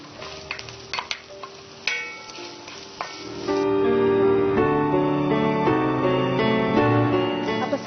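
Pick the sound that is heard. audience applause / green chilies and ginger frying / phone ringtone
green chilies and ginger frying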